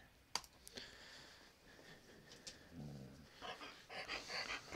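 A pet dog named Spice whimpers faintly while getting ear scratches, with soft whines mixed with light clicking and typing sounds in a quiet indoor room.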